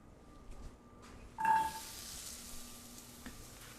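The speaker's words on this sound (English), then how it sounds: "They're sizzling." Carrots frying in a pan give off a soft, steady sizzle that swells briefly as they stir, then settles into a faint crackle alone, with no voices.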